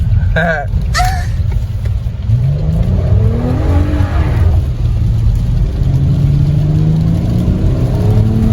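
A car drives along a wet highway, its engine droning and revving with rising and falling pitch over a constant loud road and tyre noise, with brief chirps near the start.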